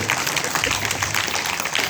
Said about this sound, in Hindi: ताली बजाओ, बात अच्छी लगी हो तो।